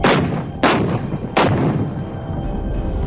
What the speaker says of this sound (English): as Indian bombardment continued